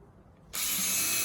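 A hole being drilled through a shield under construction, the bit finishing its cut: quiet for half a second, then a sudden loud, steady grinding whir that holds to the end, with no talk.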